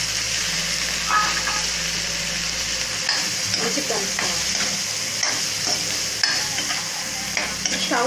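Brinjal (eggplant) pieces fry in oil in a pan and are stirred, giving a steady close sizzle broken by repeated scraping and clinking stirs, with no talking.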